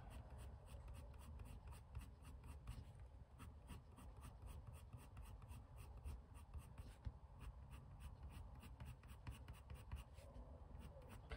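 Coloured pencil laid down in light shading strokes on a Stifflex paper pad makes a soft, rhythmic scratching and rubbing that runs steadily and up close, with no talking.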